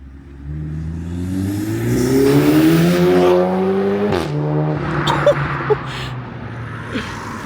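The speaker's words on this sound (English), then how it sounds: "the baddest exhaust for your S3" An Audi S3 8V with a custom valved exhaust revs hard, its pitch climbing steadily before dropping off sharply, then crackles and bangs a few times on the overrun, loud and close.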